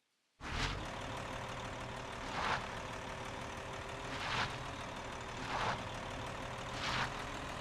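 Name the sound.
tractor engine in the video game Eco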